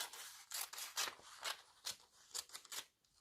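Scissors cutting paper into triangular mountain shapes, a string of short crisp snipping and rasping strokes in an uneven rhythm, close and fairly quiet, with no speech.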